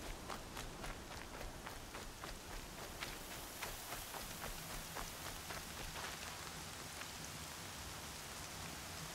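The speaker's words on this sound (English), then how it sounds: "Oh, I love the rain." Rain falling in the video game Horizon forms a steady, soft hiss of raindrops on the ground, with a faint rhythm of running footsteps beneath it.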